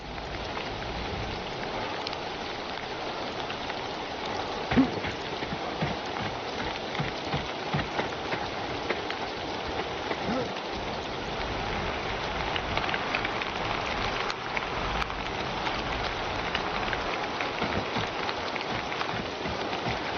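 Heavy rain mixed with hail pours in the video game DAWN of Defiance, a steady, dense patter drumming on surfaces throughout with a few sharper taps and no talk.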